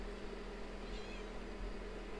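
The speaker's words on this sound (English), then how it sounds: "these cats are distracting right now." Cats meowing indoors during a live afternoon session, faint and intermittent against a steady low hum, with no talk over them.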